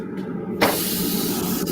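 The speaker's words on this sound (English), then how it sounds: "you hear the sizzle? I can. It's a beautiful sound." Meat sizzles on a hot cooking surface, a steady broadband hiss that swells sharply after a brief quieter start and then holds loud and close without any talk.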